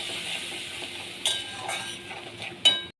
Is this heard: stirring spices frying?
yes